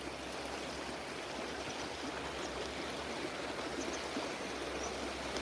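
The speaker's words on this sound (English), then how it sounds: "So that water I can hear even all the way to my house, which I think is so calm and peaceful." Outdoor stream running steadily beside a garden in Russia, a soft, continuous rushing and burbling of water with no breaks, moderately distant and calm.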